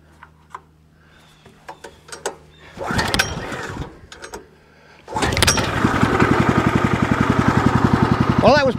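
A small engine is pulled to start with a couple of cranking bursts, then catches and settles into a steady, loud, rapidly pulsing idle, heard up close with handling clicks before it fires.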